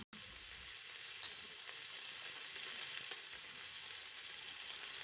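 Cauliflower, beetroot and peas sizzle and hiss continuously in a hot pan for pav bhaji, a steady bright frying sound with faint stirring scrapes, fairly quiet and close.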